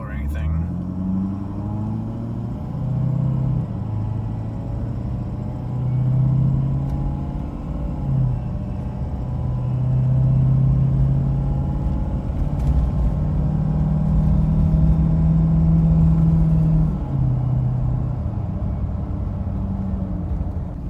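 Ford 6.7 Powerstroke diesel truck with a compound turbo pulling away gently from a stop, heard from inside the cab with windows up: a deep rumbling engine note that rises and shifts through gears over about twenty seconds while someone talks over it.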